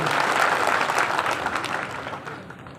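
Enthusiastic applause from a large crowd at a municipal election campaign rally in Rahimatpur, a dense wash of clapping that starts strong and gradually fades.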